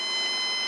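A helicopter's low rotor RPM warning horn sounds during a training flight, a steady, loud, high electronic tone that holds unbroken for under a second with no talk.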